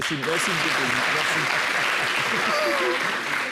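Steady, full applause from an audience at an African comedy performance, dense clapping throughout with a voice talking over it near the start.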